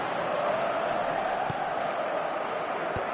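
Broad, steady roar of a football stadium crowd reacting during a match, a continuous wash of massed voices at even level with a couple of faint thuds, no distinct talk on top.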